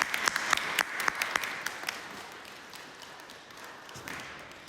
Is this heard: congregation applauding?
yes